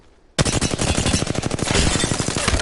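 Rapid automatic gunfire from Apex Legends bursts in loud after a brief quiet lead-in and keeps going as a dense, steady rattle of shots at close range.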